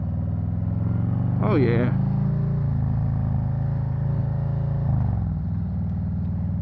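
A 2021 Snake Venom Road Glide Special motorcycle rumbles steadily through a turn, its engine note rising briefly as the bike leans in, with a rider talking over the ride and wind noise.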